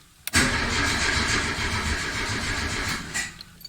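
A Renault car engine cranks with its starter on a cold start after the carburetor was cleaned, a loud, continuous churning that begins abruptly and runs for a few seconds without catching, close up inside the cabin.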